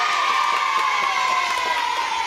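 Studio audience at a Saturday TV show cheering for a band, a sustained wash of crowd noise with a steady high tone running beneath it and no talk.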